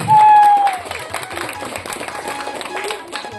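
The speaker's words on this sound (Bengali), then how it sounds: "হাততালি" A burst of audience applause at a prize-giving interview during a Saraswati Puja celebration, steady clapping that carries on with voices talking over it.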